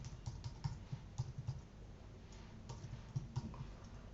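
Fingers tap out HTML on a computer keyboard, a quiet, uneven patter of soft key clicks with brief pauses, close by and with no voices.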